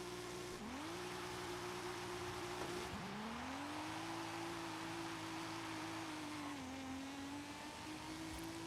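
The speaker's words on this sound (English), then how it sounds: "That was a lot of tire spin." A car launching on a drag strip in Forza Horizon 5, its engine holding a steady high drone and then dipping and climbing again through gear changes, with a constant rough hiss beneath.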